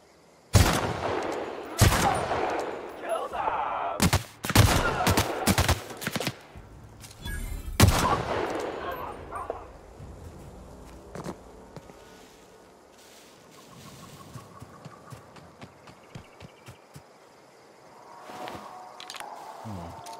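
Sharp gunfire from a newly acquired weapon in the video game The Outer Worlds, a burst of loud close shots in the first eight seconds, then scattered fainter pops over a low ambient wash.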